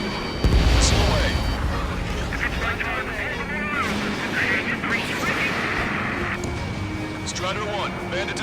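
Missile strike on an enemy jet in Ace Combat 7: Skies Unknown, a heavy boom followed by rumbling explosion and roaring engine noise, with radio voices talking over the action.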